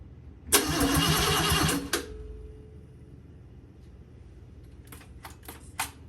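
An engine on a 1954 vehicle cranks over loudly by itself for about a second and a half, a dense steady churning that stops short. Faint ticks and a few brief clicks follow in near silence.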